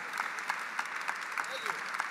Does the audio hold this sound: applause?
yes